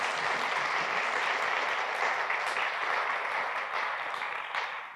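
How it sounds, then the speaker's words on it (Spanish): An audience at a Buenos Aires forum event gives warm, sustained applause for a woman, a dense wash of clapping that holds steady and then begins to taper off. "Un aplauso para Julia."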